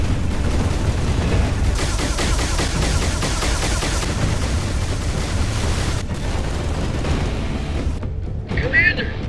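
Heavy turret gunfire and explosions in a Halo Reach machinima battle, a loud sustained barrage of shots and booms that fills the scene before cutting off near the end, with voices talking over it.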